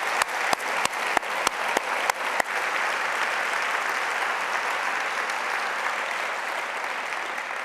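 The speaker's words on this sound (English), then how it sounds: "big round of applause" Audience applause at a California State University Fullerton convocation, a few sharp early claps swelling into sustained, steady clapping from a large crowd that fills the whole stretch.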